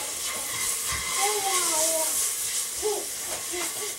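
Dehydrated onions and garlic sizzle in warm olive oil in a pan, a continuous close hiss and crackle with a faint voice murmuring underneath.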